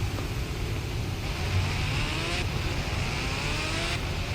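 A motorcycle engine drones steadily in the Indian Bike 3D Driving video game, a continuous close, loud hum with no talking over it.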